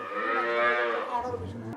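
A single long dairy cow moo, loud and close, its drawn-out lowing call trailing off into a lower grunt near the end.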